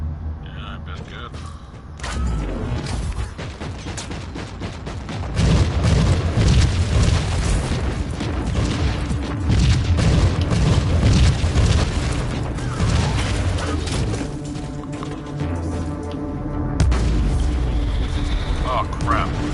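A grenade blast goes off in Warhammer: Inquisitor - Martyr amid loud, dense game combat: booming low rumbles, crunching mechanical clanks and layered effects that swell and sustain throughout.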